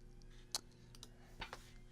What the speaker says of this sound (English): I'm going to double click to unzip all my media